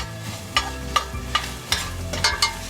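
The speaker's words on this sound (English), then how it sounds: "now I'm going to add in my garlic and just continue to saute that around a little bit" Garlic sautés in a pan under a soft steady sizzle, with a spatula scraping and tapping the pan in several regular strokes close by.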